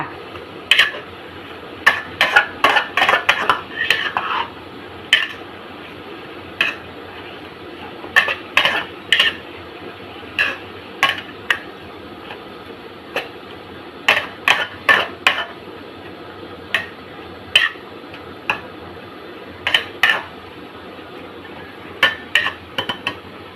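Bean sprouts stir-fried with sugar and oyster sauce in a pan, with a metal utensil clattering and scraping against the pan in repeated bursts of quick, close clinks and short pauses between them.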